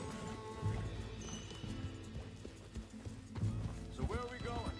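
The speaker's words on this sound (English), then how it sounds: "Get that horse in line, Arthur." Horse hooves clip-clop steadily along with a whinny near the end in Red Dead Redemption 2, under background game music and a voice talking.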